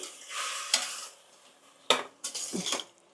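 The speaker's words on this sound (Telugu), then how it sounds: "సో ఇలా ఒక్క నిమిషం పాటు అటు ఇటు కలుపుకొని" A spoon scrapes and stirs basmati rice back and forth in a pan for coconut rice, making a few close, brisk scraping strokes separated by short pauses, with a faint sizzle underneath.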